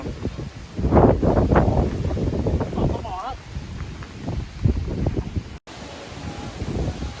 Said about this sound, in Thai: บนเขาก็โจม ลมโคตรแรงครับ